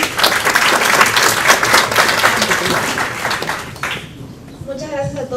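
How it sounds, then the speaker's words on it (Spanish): Strong audience applause at a formal conference, loud dense clapping that fades out near the end as a voice begins speaking. "para quien pido un fuerte aplauso"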